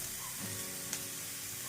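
Chopped cabbage, carrot and beans fry gently in a pan at home, a soft steady sizzle with a faint clink partway through, low and even throughout.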